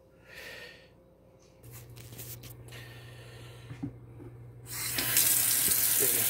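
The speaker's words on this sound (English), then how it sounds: "So to start, just turn on the hot water." Hot water from a kitchen tap running into a pitcher for home-brewed iced tea, a steady hiss that grows louder and brighter as the flow increases, with a few clicks and handling sounds.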